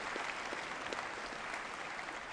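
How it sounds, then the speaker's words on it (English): Applause for a speaker, Mr. Solheim, at the CITES COP17 conference opening ceremony: a brief, even wash of many hands clapping, heard from a distance and fairly quiet throughout. "Can I ask that we give him another round of applause, please"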